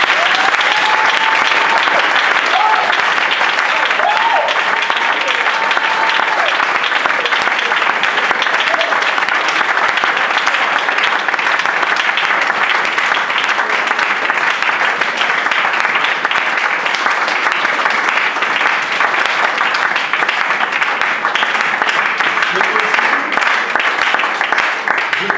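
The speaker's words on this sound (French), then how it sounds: "Est-ce qu'on peut acclamer le Seigneur?" A church congregation applauds in a loud, dense, continuous wash of clapping and cheering that lasts throughout, with faint voices mixed in.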